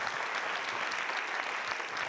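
Steady, dense applause from a crowd, continuous clapping throughout with no pauses.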